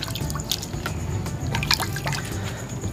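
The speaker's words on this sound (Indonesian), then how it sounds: "Nah ini aku cuci pakai ember dulu" Water trickling and dripping in a bucket as plant bulbs and roots are dunked and rinsed, a steady wet splashing with scattered drips, close and fairly quiet.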